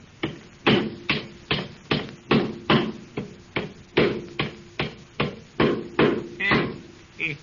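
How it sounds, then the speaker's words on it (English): Steady, rhythmic hammer blows driving nails into wooden boards, about two per second, loud and close, continuing without pause and with no voices. "hold it while they're driving them nails"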